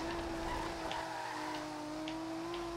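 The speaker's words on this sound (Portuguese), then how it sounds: "Olha o som do motor! Motor turbo é foda" A steady, droning turbocharged Nissan Skyline GT-R engine in Forza Horizon hums at a constant pitch, fairly quiet, with a slight shift in tone toward the end.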